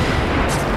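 A dense, sustained rumbling crash as the Dire middle tower is destroyed in Dota 2, loud and continuous through the brief moment.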